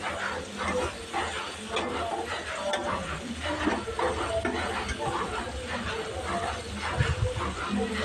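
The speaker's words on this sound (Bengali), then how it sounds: "এবার চলো ভালো করে ভেজে নেব।" Potatoes and eggplant fry in a pan with a steady, close sizzling hiss throughout and occasional stirring clatter, while someone speaks over it.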